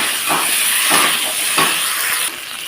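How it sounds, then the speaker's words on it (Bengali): Soybean chunks tipped into hot oil and spices in a pan, producing a steady loud sizzling hiss with a few soft thumps as pieces land, close up and continuous, fading slightly near the end, no talking. "এখন সয়াবিনটাকে ঢেলে দিলাম"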